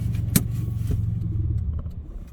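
A manual 2004 Honda Civic EP2 engine rumbles at low revs after a sharp clunk, then sags and dies away as it stalls, the close low drone fading near the end.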